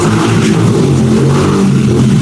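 Noisy motorcycle engine revving outdoors, a steady loud rumbling drone that holds without a break for a couple of seconds, no voices over it.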